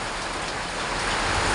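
Torrential rain from Typhoon Carina drums down over Metro Manila, a thick, constant roar of water on surfaces that holds steady and swells slightly toward the end.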